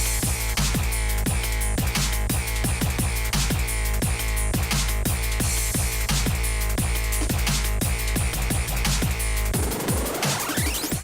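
A modified aerocharged Summit hillclimb snowmobile roars loudly and continuously in a pulsing, revving blast. The engine pitch sweeps upward sharply near the end.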